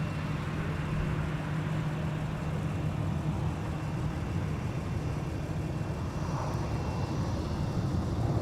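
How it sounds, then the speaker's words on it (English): A Swoop-liveried WestJet Boeing 737 arriving at Minneapolis–St. Paul airport gives a steady, broad jet roar that stays constant and fairly distant throughout. "That Swoop livery WestJet 737 arriving from Saskatoon."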